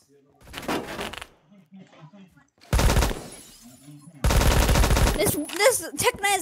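Tec-9 fire in Phantom Forces, fast bursts of sharp rapid shots in three clusters with quiet gaps between, loud and near, with brief voice chat mixed in.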